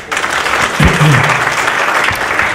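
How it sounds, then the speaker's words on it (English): Audience applause at a constitution reform panel discussion, steady dense clapping from a crowd throughout, with a brief voice murmur partway through. "So I ask that you give them a round of applause."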